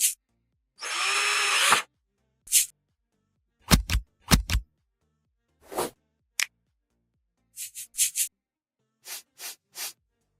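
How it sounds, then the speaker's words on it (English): A power drill drives screws into chipboard in a series of short, sharp whirring bursts, first one longer run, then quick separate spurts spaced through the stretch, with quiet gaps between and no talk. "Here's a trick on how not to damage the chipboard when drilling screws."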